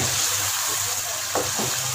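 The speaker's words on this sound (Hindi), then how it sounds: "इसको दही में अच्छी तरह से भूनना है चिकन को।" Chicken sizzles as it fries in yogurt and oil, a steady close hiss with faint stirring scrapes and soft bubbling throughout.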